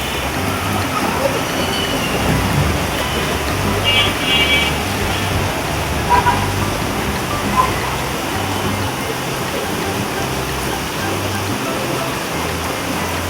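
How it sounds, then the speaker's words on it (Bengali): Rain pours steadily outside a home balcony, a constant broad hiss with a low background hum and a few faint brief tones, lasting throughout. "খুব সুন্দর বৃষ্টি আসছে আল্লাহর রহমতে।"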